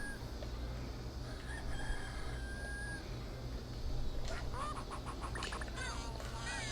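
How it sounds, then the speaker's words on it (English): A rooster crows in the video game 102 Dalmatians: Puppies to the Rescue, a drawn-out call rising near the end over steady game music and background noise, with a voice talking briefly. "You want to hear the rooster crow at the same time"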